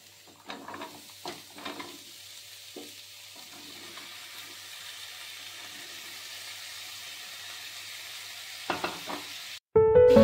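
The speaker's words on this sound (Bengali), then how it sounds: "এগুলি কষানো হয়ে গেল, তাতে সবজিগুলি দিয়ে দিচ্ছি।" Vegetables tipped into a pan of sautéed spices, salt and sugar for a vegetable side with khichuri, sizzling and frying as they are stirred, with scraping strokes early and a steady fry underneath, ending in a brief sharp clatter.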